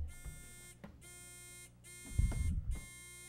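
Electronic answer buzzers for a quiz bowl team sound in a test: several separate, evenly spaced buzzing beeps, fairly quiet, with a low thump of handling noise near the end.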